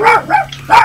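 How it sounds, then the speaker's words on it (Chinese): A small dog barks three times in quick succession, close and loud, with yappy high-pitched barks and short gaps between them. "谁家的小狗？"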